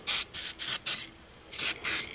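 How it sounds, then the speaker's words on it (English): Cleaner spritzed onto an Epiphone Riviera guitar in six short, close hissing sprays, four in quick succession, then a pause and two more. "let's spray him down and let that soak a little bit"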